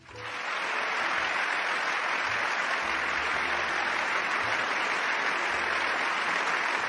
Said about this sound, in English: why are they fucking clapping so much for this